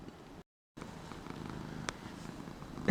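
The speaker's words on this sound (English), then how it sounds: "he's purring too loud" A house cat purrs softly and steadily after a brief gap, close by with a low rumbling texture, ending with a louder bump.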